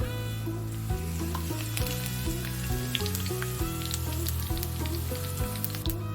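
Cinnamon, cloves, cardamom, cumin and fennel seeds spluttering in hot oil for a Sunday chicken gravy, a steady sizzle crackling with scattered pops, while music plays prominently over it.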